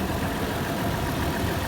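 A 2016 Toyota 4Runner engine idles steadily, a continuous even rumble with no talk over it.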